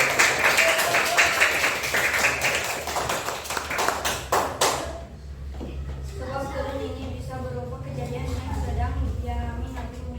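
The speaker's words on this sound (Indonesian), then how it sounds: "Tepuk tangan dulu semuanya" A classroom of pupils claps together for about five seconds, a loud, brisk patter of many hands, before it gives way to speech.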